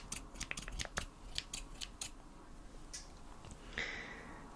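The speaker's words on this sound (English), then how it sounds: "I'm gonna take this hair and just start cutting." Scissors snip hair during a haircut, a quick run of crisp close cuts at first, then slower scattered snips, soft and intimate with no talking.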